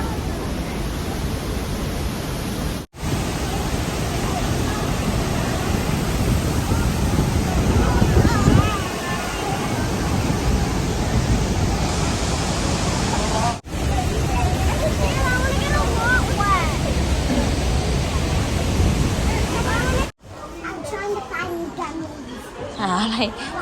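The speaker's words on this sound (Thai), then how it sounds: "เป็นน้ำตกที่เราลงมาด้านล่างนะคะ" A waterfall in Canada heard from below, filling the scene with a continuous loud, close rushing roar as people talk over it.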